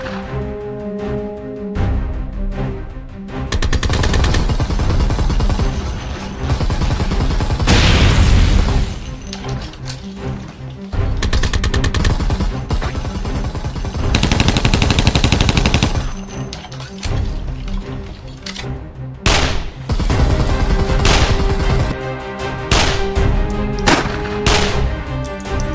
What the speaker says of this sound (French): arrête de tirer dans cette direction, t'as défoncé tout l'immeuble voisin